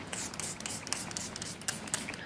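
Several quick hissing spritzes of makeup setting spray misted onto a face, short bursts in an irregular rhythm close to the mic, with light handling rustle between them.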